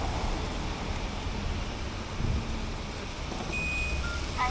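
A shared bike unlocked through Alipay chirps with short electronic beeps near the end, standing over steady outdoor wind and traffic noise.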